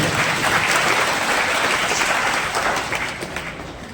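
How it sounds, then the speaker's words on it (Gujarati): A school admission and girls' education festival crowd bursts into loud, sustained applause, many hands clapping densely and evenly, slowly tapering off toward the end. "તાળીઓના ગડગડાટથી વધાવી લઈએ"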